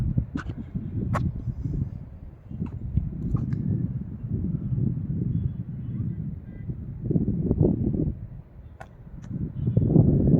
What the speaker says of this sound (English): Everything is so white, everything is marbled, a lot of wind.